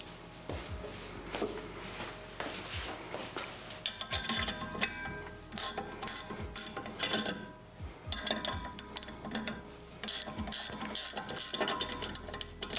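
A 19 mm ratchet wrench working a wheel bolt, quiet rapid clicking ratchet bursts in repeated runs with brief pauses and occasional metallic knocks, close up.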